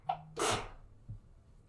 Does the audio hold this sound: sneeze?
yes